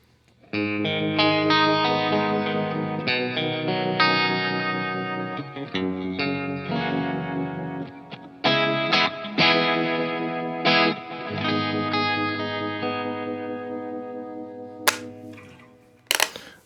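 Clean electric guitar notes and chords run through a Line 6 POD GO multi-effects unit in the second pickup position, ringing with a shimmering, slightly processed tone, played alone with short pauses.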